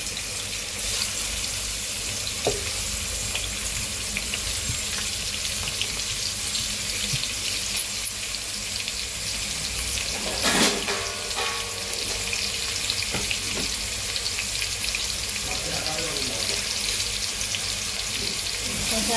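Onions and green chillies sizzle in hot oil for a fish curry, a steady loud crackling hiss that runs throughout, with a brief clatter of stirring near the middle.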